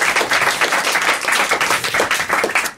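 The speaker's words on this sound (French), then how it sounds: "On vous remercie et on vous applaudit quand même." Studio audience applauding on a French television game show, dense steady clapping throughout, loud and close, with no voices over it.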